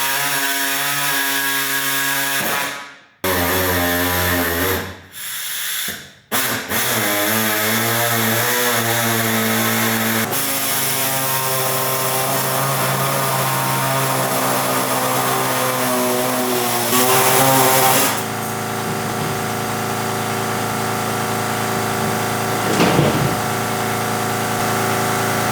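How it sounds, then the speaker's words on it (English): An air saw cuts through the plastic bumper of a Subaru STI with a loud, high-pitched pneumatic buzz, running near-continuously with a few short stops early on, close and without talking. "you have got to get an air saw because that literally took that process and chopped it in half"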